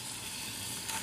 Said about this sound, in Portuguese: Fritando carne.